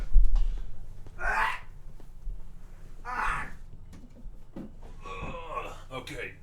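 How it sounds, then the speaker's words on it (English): A person coughs something up in a few harsh, strained bursts separated by pauses and followed by gasping, close to the microphone in a quiet room. "I had to cough something up."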